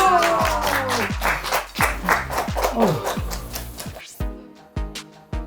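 Grandmothers clap together in rhythmic bursts while making a chocolate cake in a large iron cauldron, the claps sharpening into distinct, evenly spaced slaps toward the end, with voices chanting and talking over the first part.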